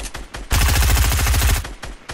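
Rapid automatic gunfire in the video game Fortnite, a dense burst of shots lasting about a second after a few scattered single shots, loud and close.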